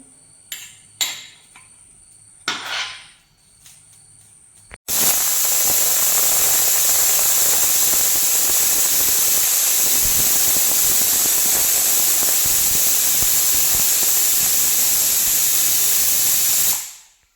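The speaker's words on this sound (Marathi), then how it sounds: "आता दोन शिट्टा करून घ्यायच्या" A pressure cooker cooking matar paneer pulao lets out a loud, sustained steam whistle of about twelve seconds, after a few quieter clinks and hisses at the start, with no talking.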